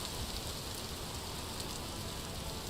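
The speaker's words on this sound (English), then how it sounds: "The rain does put it out." Rain pouring in the video game Vintage Story, a dense, even wash of falling drops that holds steady throughout with nothing else standing out.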